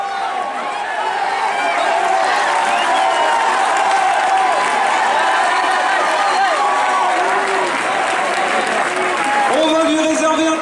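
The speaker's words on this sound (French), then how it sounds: "On va lui réserver un tonnerre d'applaudissements à Florian Carvalho ainsi qu'à tous les coureurs de ce 5000 exceptionnel." A stadium crowd at an athletics meet applauds and cheers the runners of a 5000 m race in a loud, sustained roar of clapping, with a commentator talking over it.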